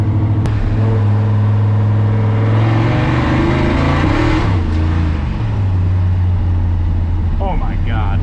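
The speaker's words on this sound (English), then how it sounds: "We drove my F100 finally." Ford F100 truck drives on public roads, its engine droning loud and near from inside the cab, rising in pitch as it accelerates then settling back, with a brief voice near the end.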